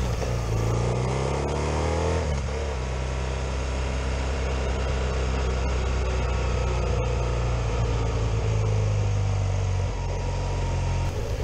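A BMW R1200GS-type motorcycle engine runs loudly and continuously, rising in pitch as it revs up and easing back, with a steady rough drone throughout; the exhaust valve opens as the engine accelerates.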